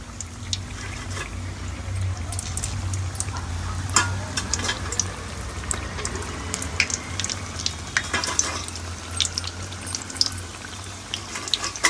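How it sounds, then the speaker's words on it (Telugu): Masala bajji being fried a second time in hot oil, a steady close sizzle with continuous crackling pops and bubbling, even in level throughout with no voice. "లైట్గా కాల్చిన బజ్జీ మళ్ళీ వేస్తున్నా చూడండి."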